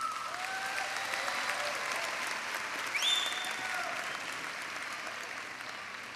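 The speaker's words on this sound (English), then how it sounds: "Please give them a round of applause." A high school graduation crowd applauds the teachers with steady, dense clapping and faint whistles and cheers rising briefly midway.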